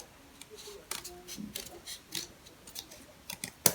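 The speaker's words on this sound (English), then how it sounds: "I need to use my scissors to trim out the traced area." Scissors trim out a traced heart shape, giving a series of crisp, irregular snips and clicks close by, with one louder snap at the end.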